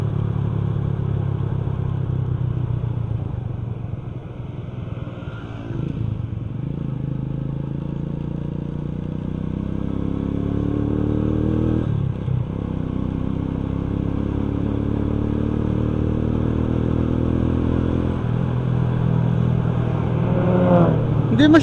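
A car drives along a road with potholes near Lipa, its engine a steady low rumble throughout, with a couple of brief jolts and clunks as the wheels drop into holes; a voice speaks over the drive.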